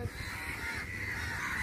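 Aggressive crows caw loudly and continuously around a baby crow, a dense chorus of harsh calls sustained throughout with no pause.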